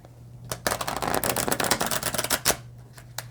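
Close riffle of thick, glossy, slippery cards being shuffled, a dense burst of rapid flicking clicks lasting a few seconds, ending with a few separate snaps.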